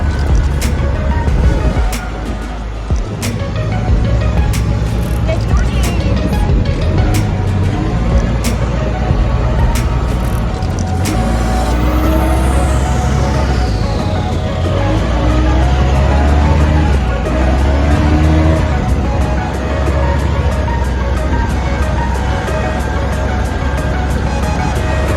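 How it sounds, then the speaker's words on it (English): A side-by-side UTV is driven during a New Mexico elk hunt, giving a loud, continuous engine drone with rough rattling and road noise close by throughout. "Hadley driving the side by side for the first time"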